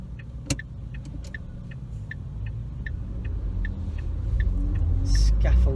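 Low, steady rumble of car traffic on a road heard from inside a vehicle stuck in slow traffic, swelling louder toward the end, with small ticking clicks repeating throughout.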